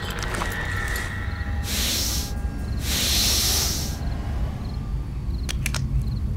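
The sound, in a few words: spray can hissing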